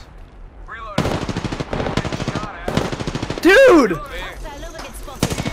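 Rapid automatic gunfire rattles in bursts during an Apex Legends match, loud and close, with a sharp whooshing ability sound midway and a player shouting over it.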